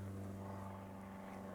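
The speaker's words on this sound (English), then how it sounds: "Another plane." An airplane flies overhead above a backyard garden, giving a steady, droning engine hum with a low tonal rumble, moderately faint and continuous without talk.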